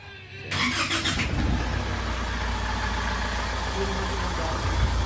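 The engine of a Foton Transvan starts up after a short crank and settles into a loud, steady idle that is close by and fills the rest of the stretch.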